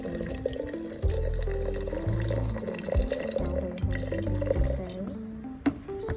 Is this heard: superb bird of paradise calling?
no